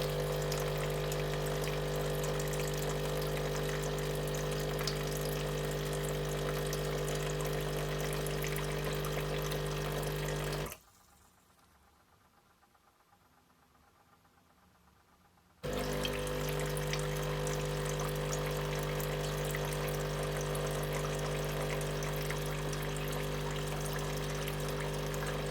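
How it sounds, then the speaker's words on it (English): A Sage Breville Barista Pro coffee machine dispenses hot water from its chute with a loud, steady pump hum and gushing flow, stops for a few seconds, then resumes just as strongly; no one speaks. "you'll see it comes out the hot water chute instead now"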